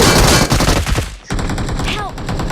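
Rapid automatic gunfire from the battle royale video game BGMI, loud bursts filling the first second, a short gap, then another sustained volley with ringing shell-like tones.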